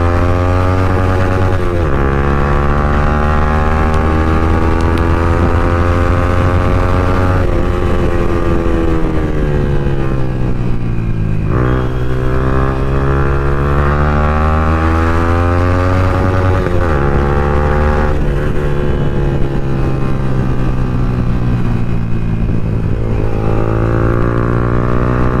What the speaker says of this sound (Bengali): অনেকদিন পরে এক্সস্ট সাউন্ডটা কানে আসছে